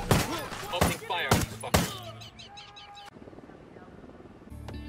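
Bursts of gunfire from the video game Ghost Recon Wildlands, several loud rapid volleys in the first two seconds, then quieter rattling and a helicopter-like drone underneath.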